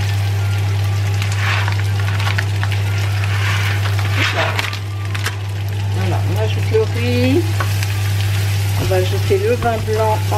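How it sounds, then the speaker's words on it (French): Rice frying in a pan for a chorizo and shrimp risotto sizzles steadily over a constant low hum, with stirring clicks and a person speaking over it. "On va pouvoir ajouter le riz."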